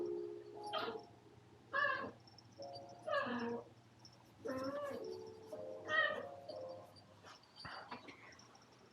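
A house cat lets out a string of drawn-out, wavering meows at close range, several separate calls in a row, fairly faint over a low indoor hum.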